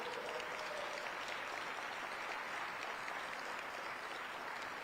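Audience applause in a room at a city's State of the City address, honoring Public Works staff: steady, dense clapping from a crowd, sustained and even throughout with no speech over it.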